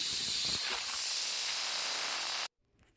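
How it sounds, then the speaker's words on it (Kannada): Steam hisses loudly and steadily out of a pressure cooker right after its whistle, with mutton kheema balls cooking inside. The hiss holds for about two and a half seconds, then cuts off abruptly into near silence. "ಪ್ರೆಷರ್ ಎಲ್ಲ ಹೋದ್ಮೇಲೆ ಓಪನ್ ಮಾಡ್ತೇನೆ"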